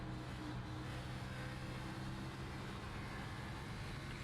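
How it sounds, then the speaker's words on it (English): Cars in an iRacing Fantasy Cup Series playoff race at Dover: a steady, low engine drone with a broad hiss of tires sliding across the track, continuous and even for the whole stretch. "Hear that car start to slide all the tires across the track"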